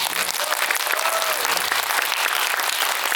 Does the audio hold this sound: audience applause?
yes